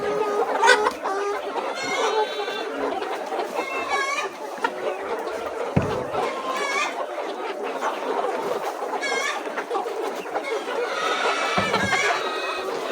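Layer hens cluck and squawk steadily throughout a chicken house raised for eggs, a dense flock chorus with a few louder calls up close and brief bumps of movement, no talking.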